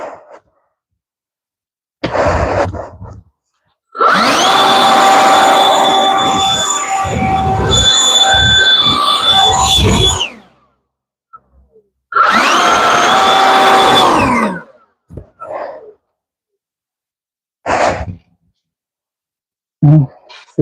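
A blower runs outdoors in bursts, with a loud, steady whooshing roar that starts and stops several times, one long run and a shorter one, with brief blips between.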